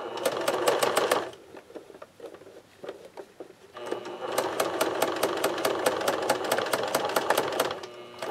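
A sewing machine stitches a medical device belt in two bursts of rapid, even needle strokes, the first about a second long and the second running several seconds, with a short pause between them filled by softer handling clicks.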